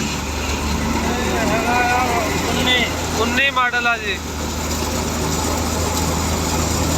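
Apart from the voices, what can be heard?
New Holland Dabang tractor running a thresher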